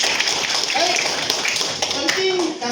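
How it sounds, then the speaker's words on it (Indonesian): A crowd at a school learning session applauds in brief, busy clapping that mixes with voices talking and calling out nearby, all at a lively, moderately loud level. "tepuk tangan untuk kita semua"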